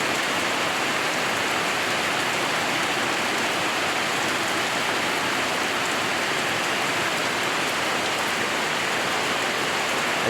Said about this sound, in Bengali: একদম নিরিবিলি বৃষ্টি হইতেছে